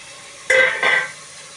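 Two quick scrapes of a utensil stir tomatoes frying with onions in a pan, close and brief, over a faint low background.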